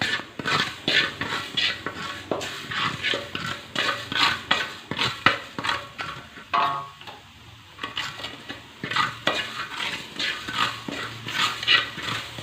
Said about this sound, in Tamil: அதுக்கப்புறம் இந்த வெந்தயத்தை வறுத்துக்கலாம்